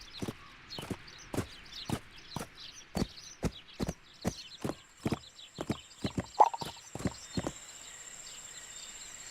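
Steady, evenly spaced horse hoofbeats from the PC video game My Little Riding Champion clip-clop at a walking pace, crisp and close, with a faint high tone humming in the background and no talking.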